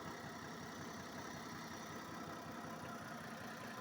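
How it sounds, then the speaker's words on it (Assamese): A Hyundai Eon car engine idles at raised RPM, a steady, fairly loud mechanical hum with a rough low-end rumble that holds without a break, close by and with no voices. "RPMটো হাই হৈ আছে কাৰণে এতিয়া চাউণ্ডটো বেছি লাগি আছে।"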